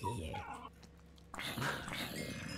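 A pet dog whimpering and yipping unhappily in short bursts, with a person speaking over and between the cries at close range.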